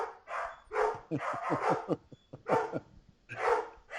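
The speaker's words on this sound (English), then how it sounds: "Here's some lovely dog barks for you." Several dogs bark in quick bursts, one higher and yappy, another deeper, overlapping back and forth at close range.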